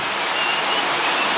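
A waterfall roars steadily and close, a dense unbroken rush of falling water with no voices over it.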